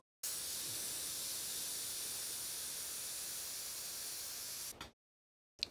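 An airbrush sprays paint for rivet detail in one steady, close hiss that holds for several seconds, cuts off, then returns as a brief final puff.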